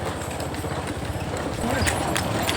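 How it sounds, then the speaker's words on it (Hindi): A horse-drawn tonga moves along Dusma Road, the horse's hooves clip-clopping in a fast, steady rhythm close by under constant road and wind noise. "दोस्तों आज भी टांगा घोड़ा चल रहा है, देख सकते हो दुस्मा रोड में"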